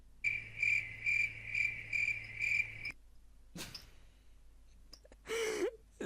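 Minecraft crickets chirp in regular pulsing bursts for about three seconds, followed by quieter scattered game sounds and short breathy noises.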